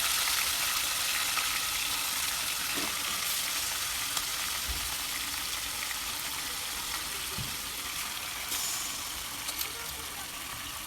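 Chicken pieces frying in a pan with ginger garlic paste, a strong continuous sizzle with occasional faint stirring knocks, near and steady, with no one speaking.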